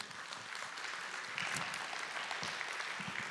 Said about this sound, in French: on l'applaudit pour l'encourager